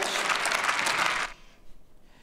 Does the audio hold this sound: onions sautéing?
no